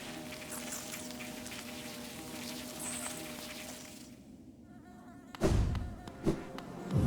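Insects buzz and drone in the Hive area of the video game Hollow Knight, a dense continuous hum that fades away before a few sharp, loud game impacts land near the end.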